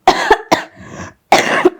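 Three loud, close coughs in quick succession, each a sharp burst, with a short raspy throat sound between the second and third; no talking.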